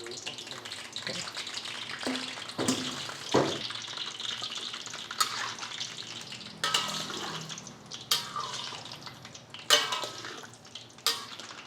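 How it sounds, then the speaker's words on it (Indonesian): Mini pau buns deep-fry in oil over a low flame, a steady soft sizzle and bubbling with occasional clinks and taps of a utensil against the pan throughout. "jadi kita menggoreng dengan api stabil seperti ini aja sampai dia warnanya menjadi kecoklatan"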